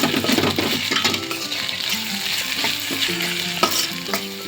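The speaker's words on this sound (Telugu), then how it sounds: "అల్లం వెల్లుల్లి పేస్ట్ కొంచెం పచ్చివాసన పోయేంత వరకు మనము ఫ్రై చేసుకున్నామండి." Ginger garlic paste sizzling in a pan on low heat for egg curry, stirred with a utensil that scrapes and clinks against the metal in irregular strokes over a steady crackling fry.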